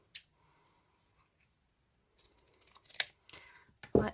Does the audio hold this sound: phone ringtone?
no